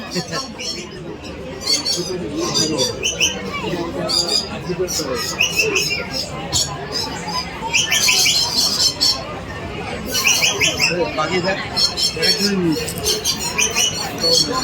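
Parrots and other caged birds at a bird fair give scattered squawks and chatter over dense crowd noise and nearby talk, loud and continuous throughout.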